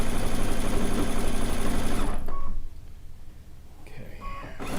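A sewing machine stitches down the layers of a rag quilt around its outer edge, a steady fast whirring hum for about two seconds before stopping, followed by quieter pauses and a brief restart near the end.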